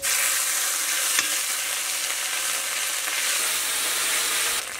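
Ginger paste fries in ghee with dried red chilli, whole cumin and cardamom in a wok, giving a loud, dense, unbroken sizzle with one brief clink partway through, set for a Bengali Laxmi Puja dish.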